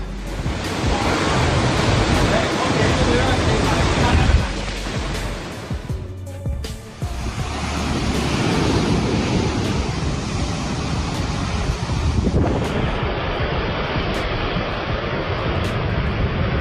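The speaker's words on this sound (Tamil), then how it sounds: "ஆளையே இழுத்துட்டு போற அளவுக்கு பயங்கரமா காத்து அடிக்குது." Roaring storm wind and surging sea waves during a cyclone, a loud, continuous broadband rush that briefly dips before building again, with the surf and gusts steady throughout and no talking.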